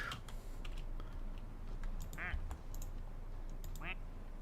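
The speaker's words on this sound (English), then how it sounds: "Oh, that was the sound of a new duck." Ducks quack in a modded Vintage Story homestead game, two short quacking bursts standing out against steady keyboard typing and a low game ambience, with faint talk in the background.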